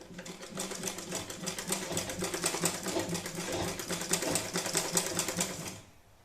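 A sewing machine runs steadily while stitching the underside of a pleated Tikali hat, a fast continuous mechanical whir with a dense needle rhythm that stops abruptly near the end; there is no talk.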